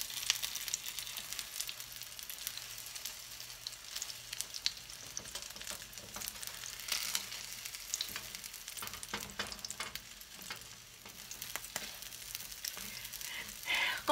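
Guatemalan chiles rellenos frying in hot oil give a steady, close crackling sizzle, with occasional louder pops and soft scrapes as they are slowly turned.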